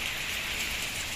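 Heavy rain pours steadily over a village, a dense, even hiss of drops close by with no letup.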